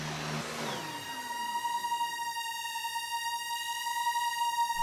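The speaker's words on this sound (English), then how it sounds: "I hate that vacuum cleaner" A vacuum cleaner runs with a steady, droning whine that holds an even pitch throughout, faint and somewhat distant, with no voices.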